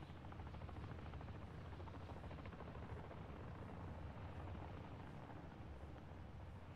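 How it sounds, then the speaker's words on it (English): A helicopter's steady, droning rotor thump in the video game Modern Warfare DMZ fills the scene continuously, low and rumbling, holding even throughout with no voices. "they're dropping helicopters of AIs"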